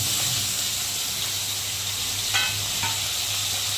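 Ginger paste, cumin paste, slit green chilies and tomato fry in oil for a Bengali potol curry, making a continuous, close sizzle with steady hiss and a few faint stirring scrapes.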